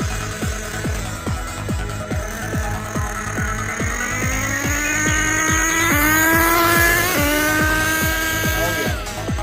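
A Kyosho USA-1 nitro RC truck with a 3-speed transmission runs loud and close at half throttle, its small engine buzzing steadily and rising in pitch through gear shifts, with no talk over it.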